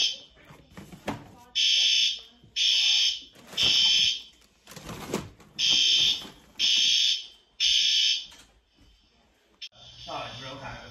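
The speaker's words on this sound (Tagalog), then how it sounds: "It's 7 o'clock and it started again, the fire alarm." A building fire alarm at an inn blares in repeated loud electronic pulses, each under a second long, separated by short gaps. People talk in the pauses.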